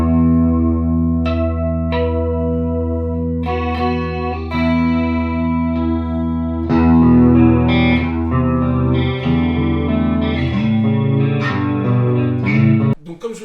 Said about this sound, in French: On va regarder un petit peu en clean ce que ça a dans le ventre,